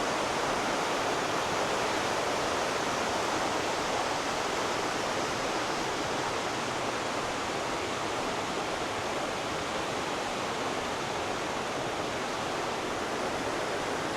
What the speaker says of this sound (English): as you might hear in the background, I'll show you why I picked this spot